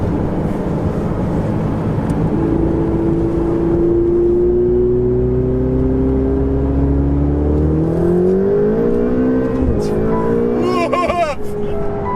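A Ferrari 488 with twin turbos is heard from inside while driving, its engine tone rising steadily then climbing through gears with a whir, loud and close, with people talking over it.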